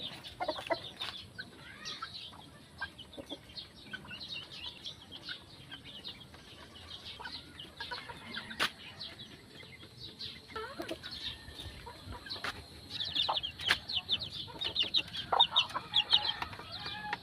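Gamefowl chickens at feeding time on a game farm cluck and chatter continuously, with scattered sharper calls rising toward the end, heard outdoors at moderate distance with no talk.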